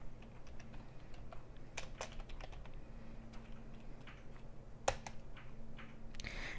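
A computer keyboard clatters with quick, uneven bursts of key taps and an occasional louder keystroke. The typing is close but soft, with a low hum behind it and no talk.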